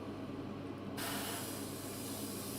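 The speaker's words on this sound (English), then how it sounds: "And now I'm spraying them horizontally" An airbrush sprays paint onto model aircraft wings. A soft hiss continues for a moment, then a louder, broad spray starts abruptly and holds steady nearby with no talking.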